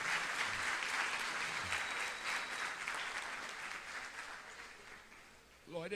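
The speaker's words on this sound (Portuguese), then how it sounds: "Vamos aplaudir o Espírito Santo maravilhoso de Deus" Congregation applauding during a Portuguese-language church service, a sustained wash of clapping that fades slightly toward the end, with a brief voice cutting in at the close.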